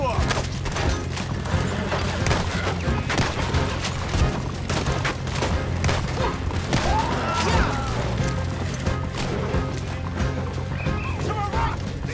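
Gunfire during a horseback chase in Red Dead Redemption 2, scattered shots mixed with galloping hooves, horse whinnies and shouted voices throughout.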